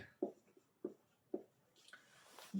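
Quiet writing on a classroom board, three evenly spaced short strokes followed by a couple of softer scratchy marks.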